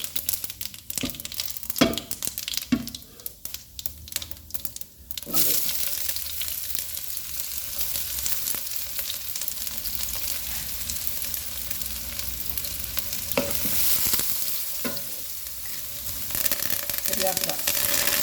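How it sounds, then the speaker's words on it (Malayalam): Mustard seeds and fennel seeds sizzle and crackle steadily in hot oil, a loud close frying hiss with scattered pops; an early stretch is quieter and clatter-marked before the sizzle swells and holds to the end. "എണ്ണ ചൂടായിരുന്നു, കടുകിട്ടു, ഇച്ചിരി പെരുംജീരകം ഇതിന് കൊടുത്ത് ഇട്ട് കൊടുക്കുന്നേ."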